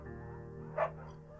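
A beagle in the video game Firewatch gives a single short bark over a quiet, steady ambient game background.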